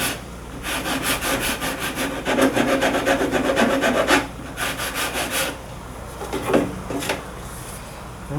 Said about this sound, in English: I'll take one of these sanding pieces here and sand it down a little